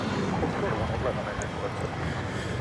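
A passenger jet on approach to DFW Airport at night, inbound from London Heathrow, heard as a loud, steady broadband engine roar with wind-like rush, continuous throughout.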